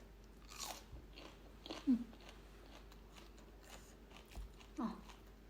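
Someone eats a long bean salad by hand, with a few crisp bites and soft chewing crunches spaced out amid quiet room noise.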